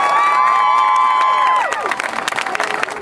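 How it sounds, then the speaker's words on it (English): An outdoor crowd at the 2013 AIDS Walk Los Angeles rally cheers and applauds, high whoops and shouts ringing out first, then giving way to a busy patter of clapping. "Give him a round of applause."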